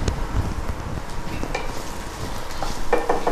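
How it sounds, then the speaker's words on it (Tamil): Ginger garlic paste sizzles loudly in a hot pan as it is added and stirred, a close, steady crackling hiss with scattered scraping clicks from the stirring. "இப்போ வந்து இஞ்சி பூண்டு பேஸ்ட் ஆட் பண்ணியிருக்காங்க."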